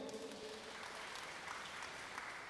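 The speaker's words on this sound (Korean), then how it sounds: "박수 한번 보내주세요." Residents at a Korean neighbourhood redevelopment briefing give a short round of applause, soft and distant in a large room, a faint continuous patter of clapping with no voices.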